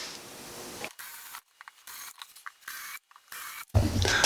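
Close-up ratcheting and rubbing as a lid is screwed onto a small wooden little free library, several short bursts of mechanical clicking separated by brief pauses, ending in a louder, fuller burst.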